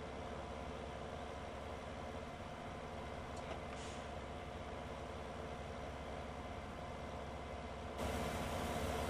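Steady low engine drone of a farm vehicle in Farming Simulator 17 straining on a hill with its wheels spinning, a continuous loud rumble that grows slightly louder near the end.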